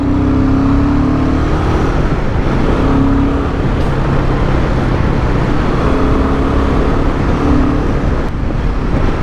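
A truck trailer crawls slowly past on a road, heard from a Royal Enfield Himalayan 450 motorcycle amid steady engine drone and wind roar, loud and continuous, with a low droning hum throughout.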